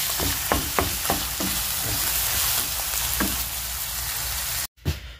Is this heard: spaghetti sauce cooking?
yes